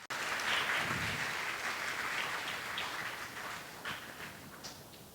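An audience at a university math fair applauds for the Dean, a sustained crowd clapping that swells quickly and then slowly fades with scattered claps near the end.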